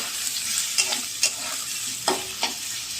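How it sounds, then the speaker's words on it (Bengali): Soybean chunks and potato pieces fry in a pan for a soybean curry cooked with mutton gravy, a steady close sizzle broken by a few sharp spatula scrapes and stirs, with no talking. "দেখো সয়াবিন আর আলু ভাজা হয়ে গেছে"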